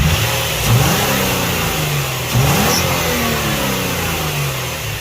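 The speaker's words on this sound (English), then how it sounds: "I'm going to go ahead and start the car and hope that it actually works" A front-wheel-drive car with a VQ engine, just repaired with a new intake valve, rumbles at idle with two brief rev swells early on and then settles into a steady, loud, close-up idle.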